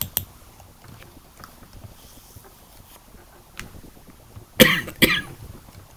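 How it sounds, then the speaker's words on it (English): A person coughing twice near the end, two sharp close bursts after several seconds of quiet room noise with faint ticks. "once you get COVID, it's hard to get rid of that cough."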